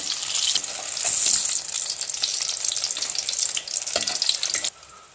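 Steady crackling sizzle of eggplant frying in hot oil, bright and close, with occasional stirring clinks, cutting off abruptly near the end.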